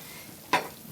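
Brief hiss of a toasty-brown baked lasagna sizzling, a single short, fairly close burst that rises sharply and fades within a fraction of a second over quiet room tone.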